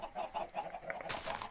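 Chickens cluck repeatedly in a Minecraft farm build, a quiet, steady run of short rhythmic clucks without speech.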